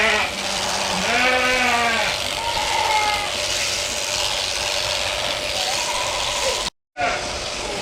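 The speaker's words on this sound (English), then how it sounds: "we're shearing our biggest ram, Albert, right here" Electric shears work on the wool of a big ram during shearing day, a steady mechanical buzz running throughout, broken by repeated sheep bleats near the start and a brief dropout near the end.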